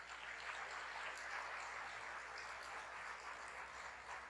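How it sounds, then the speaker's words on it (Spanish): A church congregation applauds in praise during a Spanish-language service, a faint, steady wash of many hands clapping that holds for the full few seconds. "Dele un fuerte aplauso al Señor por ellos"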